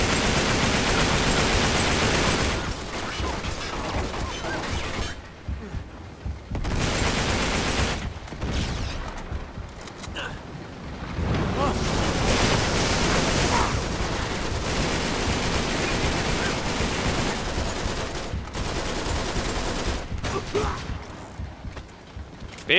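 Dense bursts of automatic gunfire rattle in Uncharted 3: Drake's Deception during a pirate ship fight, loud sustained volleys broken by a few short pauses, with someone talking over it.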